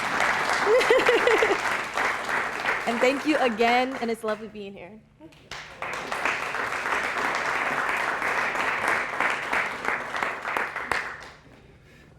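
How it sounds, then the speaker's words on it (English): Applause at a university board of trustees dinner, a steady wash of clapping from a room of guests that runs under and after a speaker talking, then tapers off at the end. "So give a round of applause to y'all."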